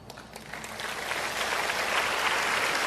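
An audience at an evening religious healing gathering breaks into applause, the clapping starting moderately and building into a dense, sustained ovation with no speech over it.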